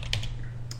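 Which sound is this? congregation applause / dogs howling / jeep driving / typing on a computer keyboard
typing on a computer keyboard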